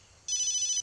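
A telephone rings once in a short, bright electronic burst of about half a second, clear and alone against a quiet room in a horror film scene.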